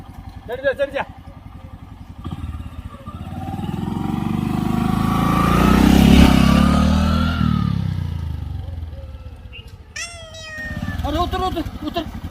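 A motorcycle engine swells up, peaks and fades away as it rides past, with voices talking before and after it.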